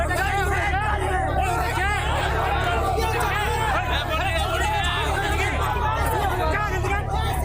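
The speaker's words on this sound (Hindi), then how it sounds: "भीड़ में मौजूद लोग भी आपस में झगड़ रहे हैं।" Loud, continuous babble of a crowd on a street in Kharagpur, West Bengal amid election campaign chaos, with raised, overlapping voices quarrelling and shouting over one another.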